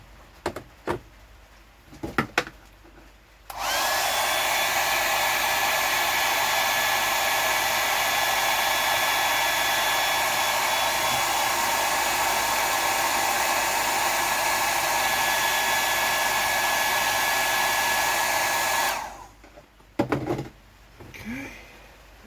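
A hair dryer runs steadily for about fifteen seconds, drying a freshly tied prawn fly; a loud, close, even whoosh and whine starts abruptly and stops abruptly, framed by brief handling clatter before and after.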